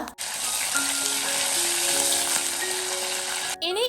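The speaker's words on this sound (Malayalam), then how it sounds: "എണ്ണ ചൂടായി വരുമ്പോൾ അതിലോട്ട് കടുകിട്ട് പൊട്ടിക്കുക" Mustard seeds spluttering in hot coconut oil make a loud, dense, continuous sizzle that fills the clip and breaks off briefly near the end.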